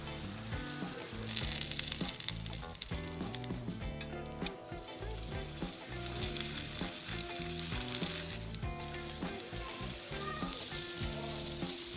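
A spinach paratha cooks in a pan over a very low flame, giving a soft, continuous sizzle. A louder stretch comes early on, and a steady tonal musical bed plays underneath.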